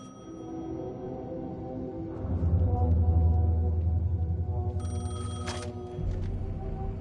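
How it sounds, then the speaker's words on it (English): A payphone in the video game Alan Wake 2 rings with a steady, tonal electronic bell, droning over a low ambient hum, louder briefly near the end, with no voices. "The payphone was ringing."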